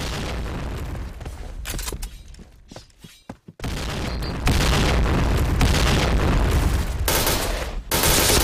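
Grenade explosion in the shooter game Point Blank, a loud booming blast amid continuous dense gunfire and machine-gun bursts, with a brief drop in noise before the fighting resumes at full volume.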